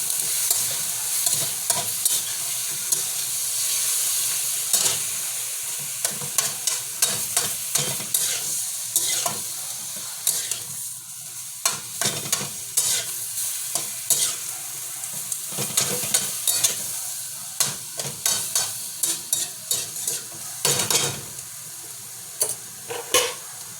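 Squid stirred in a cooking pot, sizzling continuously while a utensil scrapes and knocks against the pot in quick irregular strokes, close and clear, with no talk.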